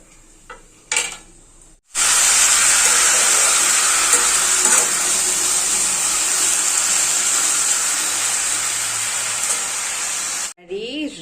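Pumpkin curry tempered with panch phoron and white and black cumin hits hot oil in a loud, steady sizzle that lasts for several seconds while it is stirred, after a few brief clatters, then cuts off abruptly.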